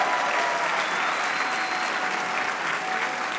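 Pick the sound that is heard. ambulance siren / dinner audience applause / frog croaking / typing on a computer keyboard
dinner audience applause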